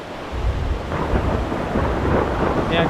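Low thunder rumbles through steady rain at Danao, Cebu, a broad rolling roar that swells and fades over a constant wash of falling water, with no talking.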